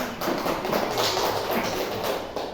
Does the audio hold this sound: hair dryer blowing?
no